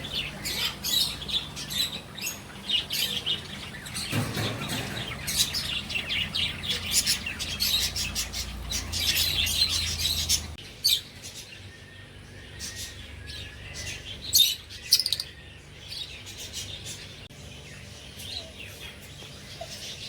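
Caged lovebirds and other aviary birds at a cottage in Thattekad chirp and squawk continuously in busy, overlapping calls, some close and some farther off, louder and denser in the first half.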